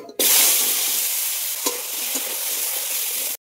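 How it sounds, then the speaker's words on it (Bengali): Potatoes frying in oil with cumin seeds, a loud, steady sizzle starting abruptly, with a couple of stirring knocks midway, close up and then cut off sharply. "আলুগুলো ভালো করে ভেজে নেব।"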